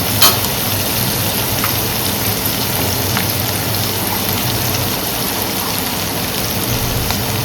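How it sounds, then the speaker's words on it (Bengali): Ginger and garlic fry in oil with a splash of water while shrimp and papaya are being cooked, a loud, steady, dense sizzle that holds evenly throughout, with a few faint crackles. "এই স্লাইড একটু জল দিয়ে দেবো, এতে কি আর তো ছিটকাবেও না, আদা রসুনটা ভালোভাবে ভাজাও হয়ে যাবে।"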